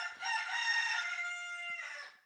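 A rooster crows once in a long, loud, close call that holds steady before tailing off, with no voices alongside.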